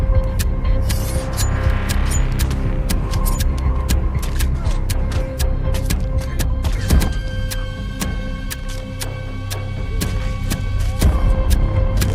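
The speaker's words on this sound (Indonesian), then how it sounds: "Mansuk diam-diam mencoba melarikan diri menggunakan mobilnya" A car engine hums and throbs steadily beneath a busy movie-style soundtrack, with sharp clicks and thumps scattered over the continuous drone as the vehicle is driven.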